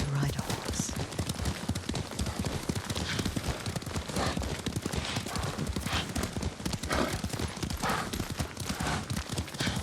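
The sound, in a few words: horse riding hoofbeats in Ghost of Tsushima video game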